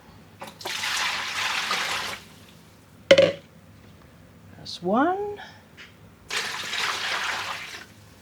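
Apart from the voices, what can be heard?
water being poured into a pot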